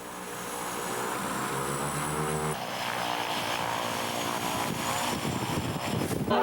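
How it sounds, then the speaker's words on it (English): A propeller-driven supply plane arriving at a polar expedition camp, its steady engine drone and airscrew hum sustained and fairly loud throughout, no talk. "On the 17th day of the expedition, additional supplies arrive by plane"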